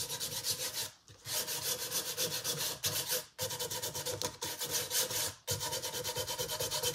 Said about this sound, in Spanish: Ahora lija mucho